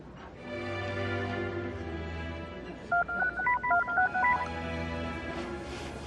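A telephone being dialed, a quick run of about a dozen touch-tone beeps in the middle of the clip, clear but modest in level over a low background hum, with no speech.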